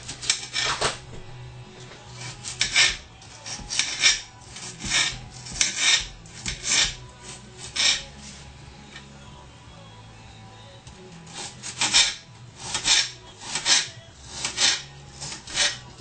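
Onions being cut with a knife on a board while breakfast is cooked at home, giving a steady series of short rasping chops in bursts, close and moderately loud, with no talking over them.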